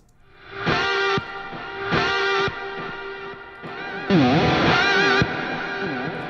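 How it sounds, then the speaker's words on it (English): Distorted electric guitar swells in with a reversed, backward attack, then sustained notes bend up and down in pitch, loud and up close with no talking. "now we have a perfect reverse into these bends"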